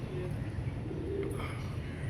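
Pigeons flocking back down to a rooftop loft give a steady low cooing and fluttering murmur throughout, close and fairly loud, with faint chirps above.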